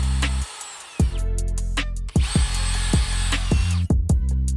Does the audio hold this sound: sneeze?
no